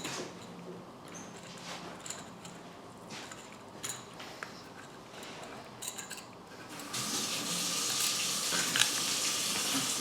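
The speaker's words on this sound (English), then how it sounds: "So now I'm just soldering in the second piece" Soldering a piece onto a Hornby model engine under restoration brings faint crackling at first, then a louder, steady sizzling hiss in the second half, close and without speech.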